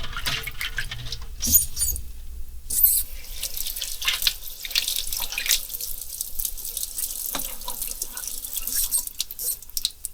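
A kitchen tap runs steadily while eggs are rinsed under it, giving a close, continuous splashing hiss with small clinks and drips and no voices.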